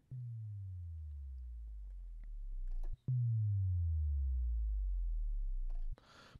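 Two loud sine wave bass drops from a Reason 6 synthesizer, each a deep tone sliding smoothly downward over about three seconds, followed by a short burst of noise at the end.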